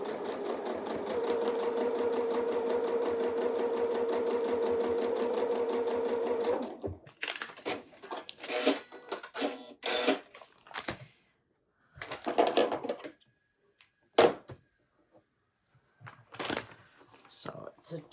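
Sewing machine stitching a quilt block runs steadily and loudly for several seconds, then stops, leaving scattered clicks, fabric handling and short bursts of machine noise.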